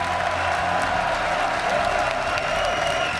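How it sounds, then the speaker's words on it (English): A large crowd in the arena at a League of Legends esports match keeps up a steady, loud roar of applause and cheering from start to finish. "And the crowd has just been so loud all weekend long."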